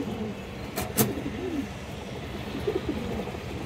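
A pigeon coos in low, soft rolling notes, close by against a steady background hum, with a couple of sharper clicks early on and no speech.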